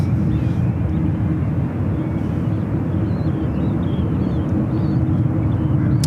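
Airliner departing San Francisco International Airport bound for Paris, a loud, steady jet engine roar with a low rumbling hum that holds evenly throughout, without speech.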